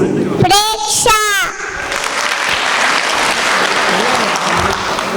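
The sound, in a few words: audience applauding the children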